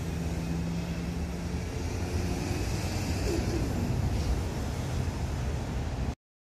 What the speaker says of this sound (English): All right, it's either an Airbus or Southwest.